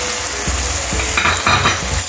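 Chopped green chillies are stirred into beef mince frying in a pan, giving a steady loud sizzle with rhythmic scraping strokes of the spoon repeating roughly every half second.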